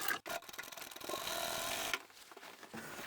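A sewing machine stitches the hem of a tablecloth, its motor running in a fast, steady whir for a couple of seconds after a brief start, then slowing and stopping.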